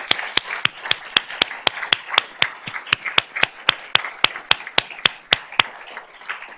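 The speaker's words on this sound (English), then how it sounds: "Let's give him a round of applause." Sharp, evenly spaced claps ring out at a school board meeting's honors presentation, a brisk rhythmic run of single hand claps, close and distinct with little crowd wash.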